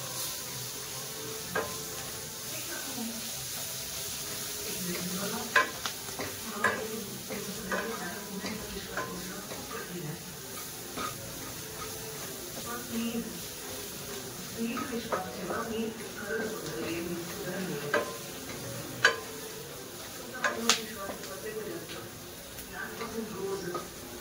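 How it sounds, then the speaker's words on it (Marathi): Chicken frying in a pan, stirred and turned over in a mustard chilli masala, gives a steady sizzle with irregular scraping and clinking strokes of the spoon, close and moderately loud, and a voice talks over it. "आपल्याला जरा चिकनला हलवायचं आहे, वरच्या खाली खालच्या वर."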